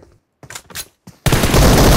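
M762 assault rifle gunfire in PUBG Mobile: a few sharp, loud shots and short bursts, then a dense, sustained full-auto volley that fills the rest of the moment at close range.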